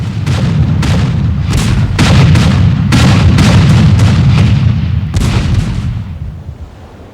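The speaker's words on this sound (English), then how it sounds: "the lead ships of both squadrons were firing broadsides at almost musket range" Warships of two opposing squadrons firing broadsides at close range in a historical naval battle, heavy cannon booms coming in a rapid sequence of repeated blasts under continuous rumbling reverberation, loud, fading slightly toward the end.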